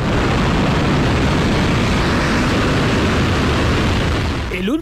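Russian Soyuz rocket launch, a dense, continuous roaring rumble that stays loud and steady throughout, with a brief tonal sweep near the very end.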